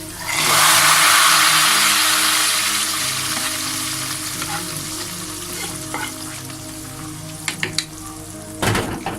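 Loud hot-oil sizzling bursts up as a fried onion and garlic tempering is poured into cooked lentils, then gradually settles into a softer crackle, with a few light clinks near the end.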